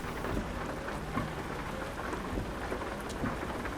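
Rain and rolling thunder from the American Truck Simulator driving game, a steady dense downpour with low rumbles throughout, heard alone without talk.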